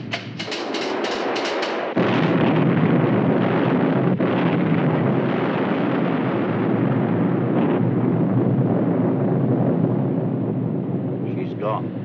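A loud, sustained wartime torpedo explosion in a 1953 naval film, with a sharp onset followed by a long roaring, rumbling wash that fades slowly over about ten seconds, with no speech over it.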